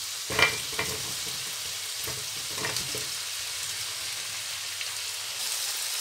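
Diced potatoes and capsicum frying with tomatoes in a home-kitchen pan give a steady sizzle, with a few stirring scrapes early on and then a constant hiss. No one speaks.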